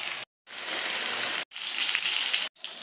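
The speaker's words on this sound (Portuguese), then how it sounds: "terminei de fritar, né? As nossas linguiças" Tuscan sausages frying in a pan, a dense, steady sizzle and crackle broken by two brief silent cuts, then resuming at the same fairly loud level.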